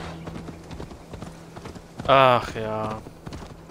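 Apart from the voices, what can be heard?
horse hooves while riding in video game Assassin's Creed Valhalla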